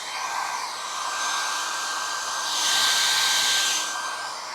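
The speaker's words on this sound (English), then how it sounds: "You gotta know your hairdryer and how hot it is." A hair dryer blows steadily up close to dry paint on Depron foam, a continuous airy whoosh with a thin motor whine that swells louder partway through, heard without talk.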